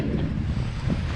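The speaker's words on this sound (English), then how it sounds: "And a bit more wind than yesterday." Steady wind buffeting and wash of 2 to 4 foot waves aboard a sailboat under sail with motors off, a continuous close rumble filling the whole stretch without talk.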